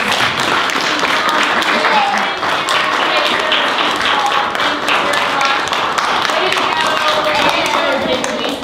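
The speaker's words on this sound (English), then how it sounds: "can we please give a round of applause?" An audience applauding steadily, a dense wash of many hands clapping at once, sustained and fairly loud throughout.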